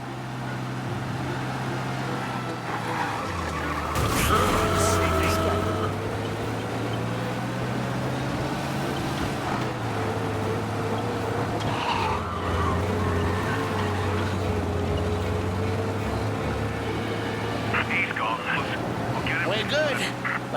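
Engine drone of a car driven fast through city streets in the Mafia video game, steady revving with pitch shifts and bursts of louder activity, continuous across the clip with game voices over it.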